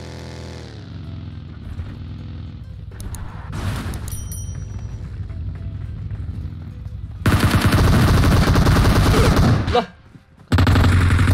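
Automatic gunfire in a Tencent mobile shooter, a loud, dense, sustained burst in the last few seconds that breaks off briefly and then resumes, following quieter engine hum and scattered shots, with a short shouted exclamation.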